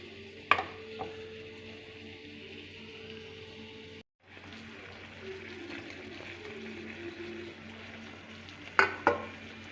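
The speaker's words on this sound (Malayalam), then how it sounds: "സോയാബീൻ ഇടാം" Soybeans tipped into a pan and stirred while cooking into a curry, a soft sizzle with spoon scrapes near the start and end and a brief pause midway.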